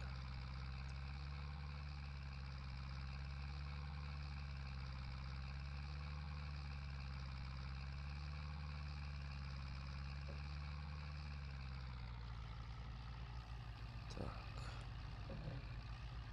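A Zetor 7745 tractor engine in the Farming Simulator video game drones steadily under load for about twelve seconds. The tone then shifts, and a few faint clicks and knocks follow.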